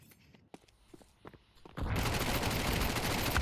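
A Mac-10 submachine gun opens up in Counter-Strike on Mirage, starting with a few scattered shots and then a loud, sustained rapid-fire spray that carries on to the end.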